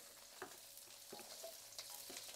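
Old petai beans frying in a pan for sambal pete: a continuous close sizzle with occasional stirring scrapes and pops, no voices.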